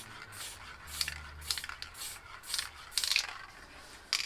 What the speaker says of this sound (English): Spray a bit on the bottom here.